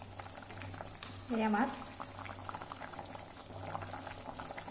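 A cauliflower, tomato and fish curry simmers in a pot with a soft, quiet bubbling, while a voice speaks briefly over it.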